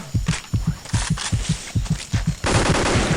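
Rapid, loud automatic gunfire from the Vietnam War shooter Vietcong fires in a steady close burst of evenly spaced shots that runs into a denser rattle near the end.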